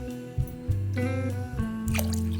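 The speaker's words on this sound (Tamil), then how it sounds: "ஒரு மூணு டம்ளர் அளவுக்கு நான் வந்து தண்ணி சேர்த்துக்க போகிறேன்" Water poured from a tumbler into washed rice and lentils for sweet pongal, three measures, heard as close splashing and dripping into a pot with a steady hum underneath.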